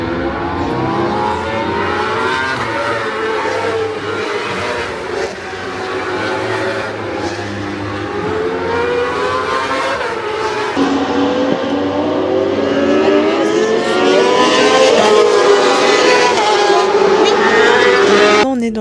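Racing motorcycles at the 24 Hours of Le Mans endurance race heard from high in the grandstand above the Motul corner, multiple engines whining and shifting pitch as bikes pass, with a voice talking over the continuous roar.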